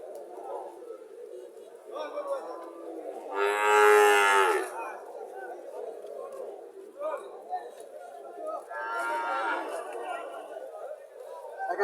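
A Brahman bull calf moos loudly at a village cattle market in Cumilla, with one long bellow and a second call later, while people talk around it throughout.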